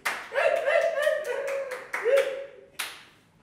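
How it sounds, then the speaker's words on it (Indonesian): A live comedy show audience in Tangsel claps briefly, a quick run of sharp claps close up mixed with talking, then fading to quiet after a final clap. "tepuk tangan semuanya."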